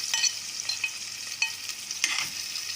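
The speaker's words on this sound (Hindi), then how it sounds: "In the cooking oil, we added the onions" Steady hissing sizzle of onions with garlic-ginger paste frying in cooking oil, with occasional crackles and stirring scrapes, close and moderately loud.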